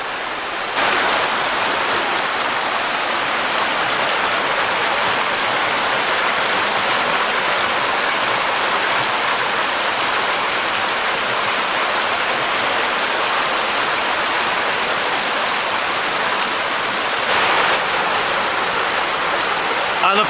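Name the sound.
cascade of waterfalls at Black Springs Falls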